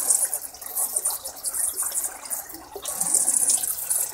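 Water pours heavily and steadily into an aquaponics tank, a continuous hissing gush with no voices over it.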